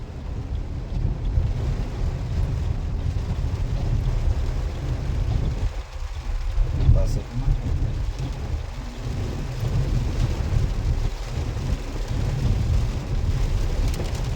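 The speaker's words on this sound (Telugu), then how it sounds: "వర్షం మాత్రం దంచి దంచి కొడుతుంది వర్షం" Heavy rain pours steadily in Giddalur in a dense, constant roar, with low rumbling thunder underneath and wind buffeting the microphone.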